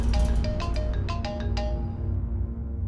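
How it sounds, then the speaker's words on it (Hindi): A mobile phone ringtone plays on as a repeating melodic tone over a dense musical background, loud and continuous, with no talk. "वॉल्टर वासु का फोन है सर, आप फोन क्यों नहीं उठा रहे?"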